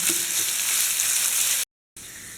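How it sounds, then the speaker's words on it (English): Onion frying in a pan for broken wheat biryani makes a loud, even sizzling hiss that runs close and constant, then cuts out briefly before resuming, with no one talking. "now add onion to this. Mix well. Now let it cook for 1 minute."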